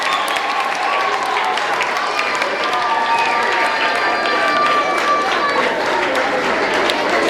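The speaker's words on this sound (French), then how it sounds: "Acclamons pour le Seigneur." A church congregation applauds and cheers in a dense, continuous wash of clapping and voices that stays steady and loud from start to finish.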